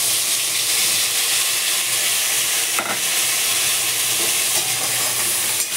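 Tomato, poppy-seed, green chilli and ginger paste poured into a hot pan of oil: a loud, dense, hissing sizzle holds steady throughout, with a couple of brief stirring scrapes, close and with no speech.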